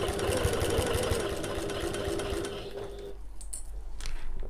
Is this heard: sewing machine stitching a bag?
yes